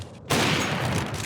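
An AWP sniper rifle fires in the video game CS:GO. After a brief quiet moment, a single loud, abrupt blast bursts in and rolls on as a dense, sustained rumble until the end.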